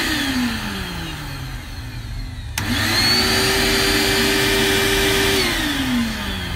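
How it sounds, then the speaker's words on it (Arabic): A repaired National 1200 W vacuum cleaner motor whines, drops in pitch, then abruptly jumps to a louder, higher, steady drone before winding down near the end, close up with no talk. "ان شاء الله صوت الموتور"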